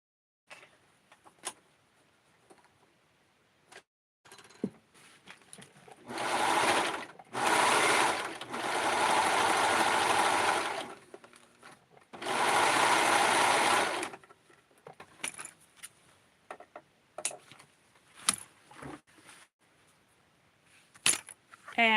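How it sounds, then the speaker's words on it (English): A serger overlock machine stitches small Barbie doll pants in three loud whirring bursts of a few seconds each, with scattered clicks and fabric handling sounds before and after. "So I'm going to do the last serger"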